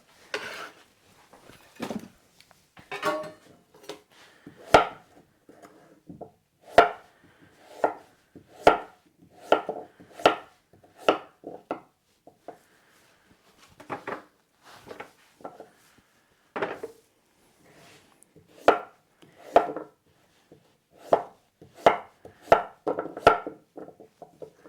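Small potatoes are halved with a knife on a cutting board during weekly meal prep, a long series of crisp, close chops in irregular bursts separated by short quiet gaps, with no talking.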